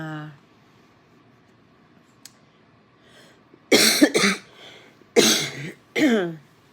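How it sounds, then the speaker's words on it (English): Several harsh coughs burst out in two close pairs after a quiet stretch, loud and near, with a brief voice at the very start. "Whenever I get a cold, I always get a cough."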